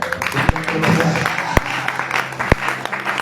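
A church congregation at a Sunday worship service applauding, a sustained loud wash of clapping with a few sharp individual claps and voices mixed in.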